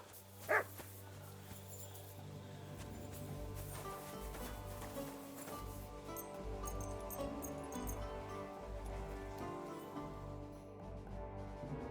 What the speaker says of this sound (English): Why is it barking so?